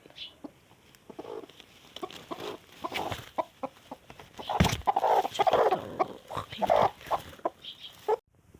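A hen clucks repeatedly at close range in short, uneven bursts, with some rustling and handling noises between the calls.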